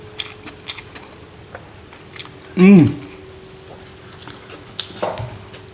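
People talk near the mic, then a single loud crunchy bite into crispy fried catfish cuts through, followed by quieter chewing sounds.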